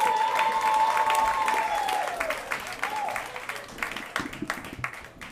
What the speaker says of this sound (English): Give me a round of applause for Renee Santos.